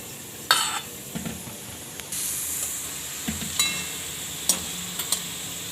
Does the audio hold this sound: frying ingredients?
yes